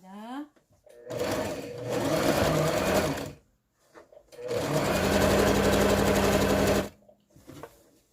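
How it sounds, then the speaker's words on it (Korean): A sewing machine stitches cloth from a festive wrapping fabric into a pillow or cushion insert, running in two long, steady bursts of close, loud whirring separated by a short pause. "이제 박음질 시작해 보겠습니다."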